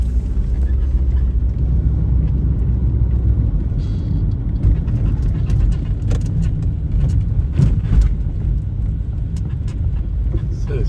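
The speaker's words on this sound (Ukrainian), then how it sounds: "Це від'їжджаємо від нової почти. Зараз і їдемо на господарство." A car pulling away from a new post office in a village, its engine giving a steady low rumble throughout, loud and close as if heard from inside.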